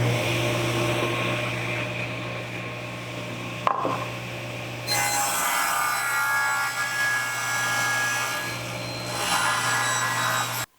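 A table saw cuts a squared wood blank to size for a custom molding profile, giving a steady mechanical whine with a brief break partway through. The cut then turns harsher and brighter, running loud and close with no talking.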